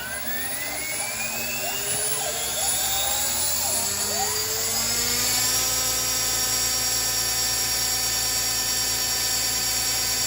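An OMP Hobby M4 RC helicopter on a fully charged 6S battery spools up at 90% throttle, its close, steady high-pitched whine rising in pitch and then holding at a constant loud tone.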